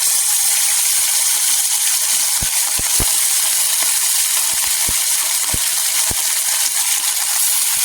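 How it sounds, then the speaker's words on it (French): Fresh fish frying in heated oil for a West African tomato and okra sauce, a loud steady hiss of sizzling with a few sharp pops and crackles scattered throughout. "l'huile a chauffé, nous allons faire frire nos poissons"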